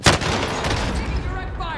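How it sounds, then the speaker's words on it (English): Gunfire in Modern Warfare Warzone opens with a sharp close shot, followed by a dense rumble of further shots and booming echoes that fade out. "Taking direct fire."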